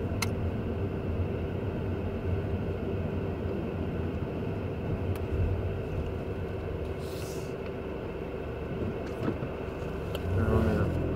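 Car driving in traffic, a steady broadband road and engine rumble running continuously from inside the moving vehicle with no clear breaks.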